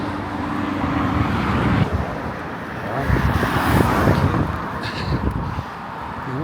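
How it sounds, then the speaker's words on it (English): Vehicles pass on a busy road near Bournemouth Airport, a continuous moderately loud roar of traffic that swells and eases as cars go by, with no speech. "It seems to be a virtual non-stop queue of traffic."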